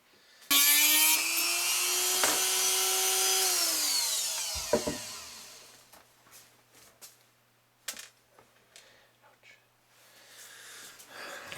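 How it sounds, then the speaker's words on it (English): A CB antenna being cut shorter with a power tool: a loud whining cut that rises in pitch and stops abruptly after about four seconds, followed by scattered clicks and handling knocks. "it looks like I'm going to have to cut more off"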